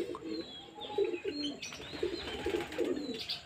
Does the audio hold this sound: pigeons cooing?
yes